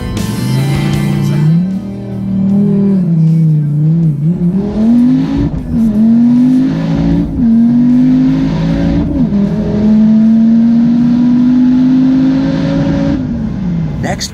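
The White Snake Agni Stryker street car launches for a drag racing pass, its engine roaring loud and close, pitch rising and wavering through the gears before holding a high sustained wail, with a voice underneath.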